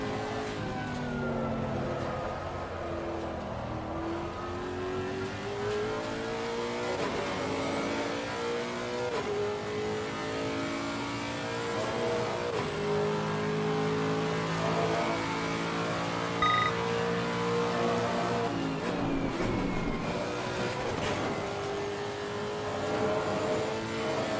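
Lexus race car at Silverstone in Assetto Corsa Competizione, its engine revving up and down through gear changes in a continuous in-car drone of rising and falling pitch, at moderate level with no talking.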